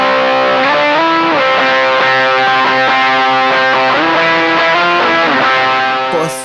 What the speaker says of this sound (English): Here's where the distortion in the triple threat comes in.